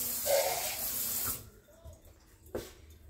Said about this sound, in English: I am going to add a little water to that though.